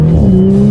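A 2019 Audi S4 in dynamic mode pulls hard under paddle-shifted acceleration, its engine note loud and close with a steady, rising drone and no talk over it.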